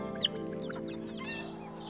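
Pet chickens cluck close by in a quick run of short, overlapping calls, with one sharper squawk near the start, over a low steady background hum.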